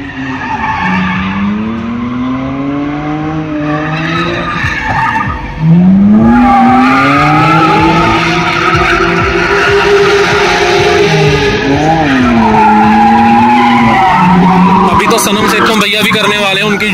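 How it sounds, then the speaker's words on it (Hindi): A Mercedes Kompressor drifting in practice at a race wars event in India, tires skidding and squealing steadily for most of the clip, with engine roar underneath and people talking over it throughout. "वो ड्रिफ्टिंग कर रहे हैं कबीर भैया कर रहे हैं"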